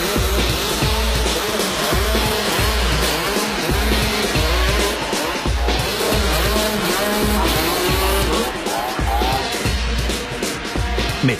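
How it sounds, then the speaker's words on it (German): A go-kart driven at full throttle down a bobsleigh ice channel, its engine roaring loud and close with a constant high drone and rattling, wind-buffeted texture throughout. "Mit Vollgas durch den Eiskanal."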